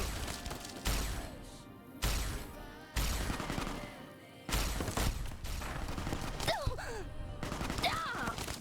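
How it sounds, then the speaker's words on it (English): Gunfire in Fallout New Vegas comes in several sharp bursts spaced a second or so apart, over a busy game soundscape with music-like tones, fairly loud throughout. "Please stop shooting me through a bush"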